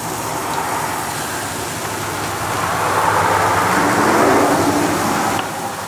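Road traffic passing near an outdoor grill where breakfast sausage patties are cooking: a steady broadband roar that swells as a vehicle goes by mid-clip, then eases off, with no talking.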